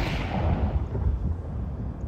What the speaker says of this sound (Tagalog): Throwing smoke.